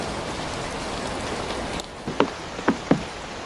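Pouring rain makes a steady, dense hiss of falling drops that briefly drops away near the end, when a few soft knocks are heard.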